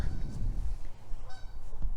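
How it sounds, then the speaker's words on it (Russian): A pair of geese honk repeatedly outdoors in the USA, with loud, harsh calls close by over a low rumbling background and no talk. "так кричат гуси, там парочка гусей"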